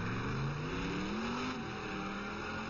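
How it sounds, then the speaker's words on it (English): A Ford GT race car pulls out of the pits during qualifying for the 12 Hours of Sebring, its engine note rising in a steady, moderately distant drone that climbs in pitch as it accelerates away. "this Ford GT just exiting the pits now"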